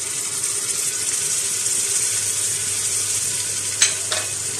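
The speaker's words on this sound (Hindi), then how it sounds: "थोड़ा सा दही के साथ इसको मैं अब भूनूंगी।" A steady, hissing sizzle of masala frying with yogurt in a pan for palak gosht, with a couple of brief clinks from stirring near the end.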